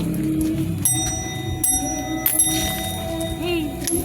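A bicycle bell rings several times at night on a Philippine street, with bright, sharp metallic tones that stand out over a background of voices and traffic noise.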